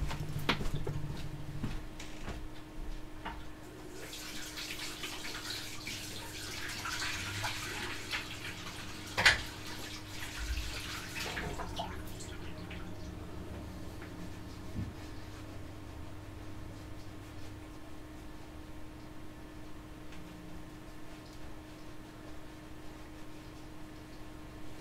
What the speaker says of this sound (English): I want to wash my hands first.